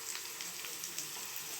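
Sliced onions and ginger-garlic paste frying in hot oil for an egg curry, a steady close sizzle with soft crackle throughout, no voices.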